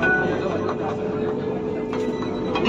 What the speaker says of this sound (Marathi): आपण मेट्रोच्या खाली उतरलेला आहे। हे बघा मेट्रो।